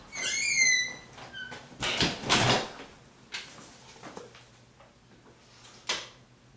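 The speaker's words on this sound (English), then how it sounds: "Hold on, I gotta shut this door." A door being shut indoors, with a squeak and a couple of loud thumps and clunks, followed by scattered faint handling knocks.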